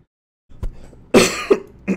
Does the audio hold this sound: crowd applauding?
no